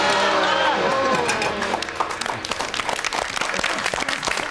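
Studio audience applause on a live television cooking show, steady dense clapping throughout, loud and close, with a voice talking over the start.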